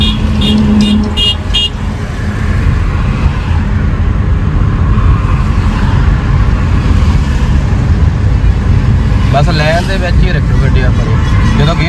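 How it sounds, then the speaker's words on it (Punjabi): A car engine revs during a gear change in a driving lesson, heard as steady road and engine noise inside the car alongside an instructor's continuous talk, with a short horn toot near the start. "ਔਰ ਰੇਸ ਵਧਾ ਕੇ ਗੇਅਰ ਚੇਂਜ ਕਰੋ"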